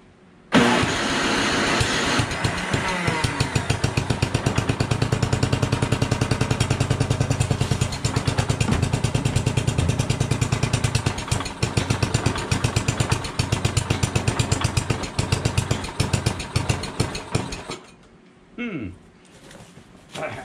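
A carbureted engine that tends to choke cranks and catches, then runs rough and sputtering for about seventeen seconds at close range before cutting out into a few faint, uneven attempts near the end.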